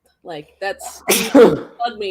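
A single loud, close sneeze bursts out midway between bits of conversational speech in a casual indoor discussion.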